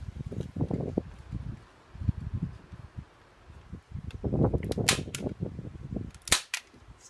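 Hand stapler driving staples into a hand-woven textured panel of dampened woven material, with several sharp snapping clicks near the end among soft rustling and handling noise.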